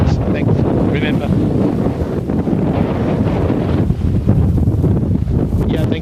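Strong wind buffets the microphone at a windsurfing event on open water, a steady roaring gust that never lets up, with faint voices and splashing surf under it.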